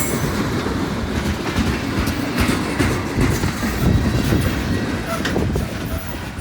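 Freight train hauling rock passing a railroad crossing, a loud continuous rumble with clattering wheels and faint squeals, close and steady throughout.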